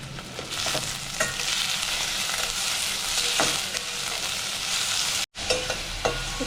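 Sliced onions frying and sizzling steadily in a pan with salt, being cooked down for marinated chicken biryani, with occasional stirring clicks and a brief break near the end.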